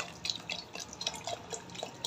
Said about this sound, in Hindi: अब इसमें थोड़ा सा वाटर डालेंगे।